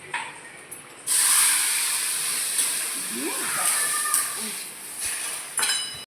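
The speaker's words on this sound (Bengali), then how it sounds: "ক্যারামেল করে দিচ্ছি। চিনিটা কড়ার মধ্যে দিলাম" Sugar with a little water bubbles and hisses in a pan as it caramelizes, a steady broad sizzle that swells suddenly and holds, with faint utensil clinks.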